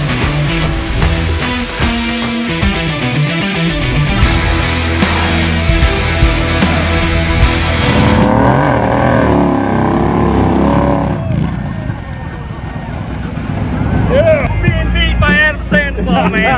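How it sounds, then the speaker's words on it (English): A Harley-Davidson Milwaukee 8 motorcycle engine rumbles and revs loudly nearby, with throttle blips and a deep throaty roar, mixed with people talking over it. "It's that Milwaukee 8, baby."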